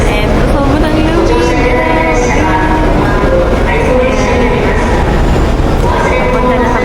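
A train in Tokyo gives a loud, steady rumble with rolling rail noise throughout, close and constant, as people talk nearby.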